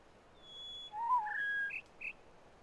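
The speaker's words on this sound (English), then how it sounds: "same bird noise we're gonna hear here" Bird song in the video game The Witness: a few thin, clear whistled notes and short chirps, faint and isolated against a quiet hiss of background noise.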